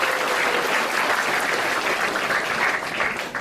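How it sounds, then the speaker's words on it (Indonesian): An audience breaks into sustained applause, dense even clapping at steady loudness from start to finish with no voices over it. "Tepuk tangan dulu"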